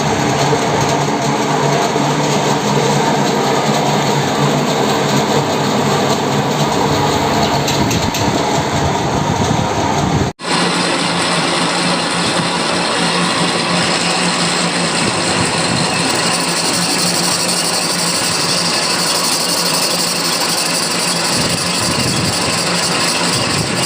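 Lathe facing and outer turning on a 3-jaw chuck under repair: a steady, dense machining roar runs throughout without a break, with one brief dropout midway.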